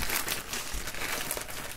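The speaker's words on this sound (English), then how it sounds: "I have here a paper bag" Paper crinkles and rustles close up in irregular bursts, like a bag being handled and crumpled, with no talking.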